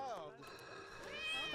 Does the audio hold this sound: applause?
no